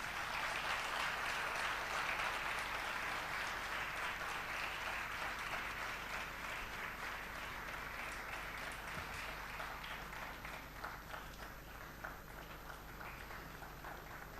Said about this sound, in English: Can we have a huge round of applause from the audience